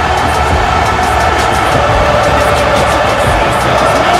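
A wrestling crowd at an MPWF WrestleMania 11 event cheers the wrestler Cypher, a dense, steady roar of many voices that holds at even loudness without a break.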